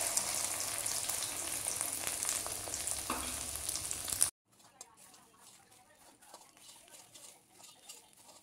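Food fries in hot oil in a home kitchen, a dense close sizzle that runs loud for about four seconds before dropping to a much fainter crackle.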